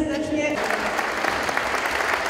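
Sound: audience applause for student vocal group

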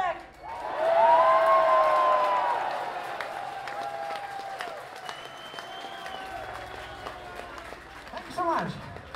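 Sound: concert crowd applauding and cheering

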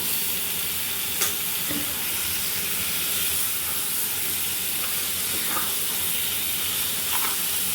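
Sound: fish belly frying in spiced oil

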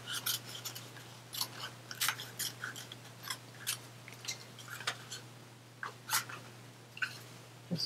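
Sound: scissors cutting paper strips for a fan card

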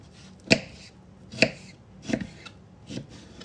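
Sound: knife chopping vegetables

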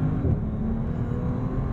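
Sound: Bentley Continental GT Speed W12 engine revving on downshift

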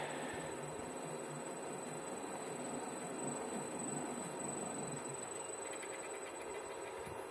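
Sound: self running generator at higher RPM

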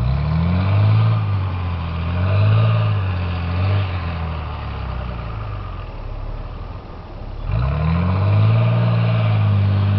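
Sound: four-wheel drive vehicle engine revving on driveway

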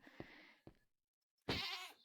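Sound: sheep bleating in the video game Minecraft

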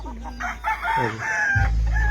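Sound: fighting roosters crowing in a slum yard, Philippines

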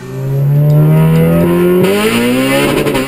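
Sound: Honda VTEC engine revving, variable valve timing engaging

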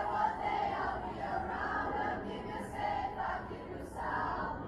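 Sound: concert crowd singing along to Shawn Mendes song

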